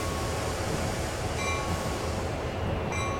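A GP40-2 diesel locomotive in Train Sim World gives a steady, loud rumble with constant rolling rail noise throughout, with faint high tones briefly surfacing twice.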